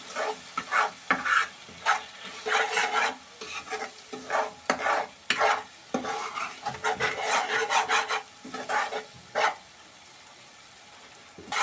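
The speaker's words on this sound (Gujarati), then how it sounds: "અને હવે આપણે આને હલાવી નાખશું" Spice masala with Kashmiri red chilli powder is stirred in a pan for egg lababdar, giving repeated scraping and rubbing strokes in uneven bursts, near and clear, with a sizzle underneath and no talking.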